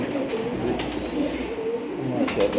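Malang pigeons coo in repeated low, throaty phrases close by, several overlapping calls in a steady rhythm with soft fluttery sounds between them.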